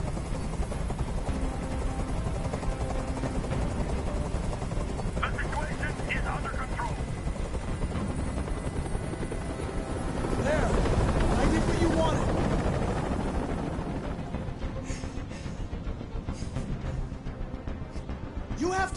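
A helicopter hovers overhead in the Detroit: Become Human video game on PS4 Pro, a loud continuous rotor roar that swells and holds for the whole stretch, mixed with game dialogue and other scene sounds.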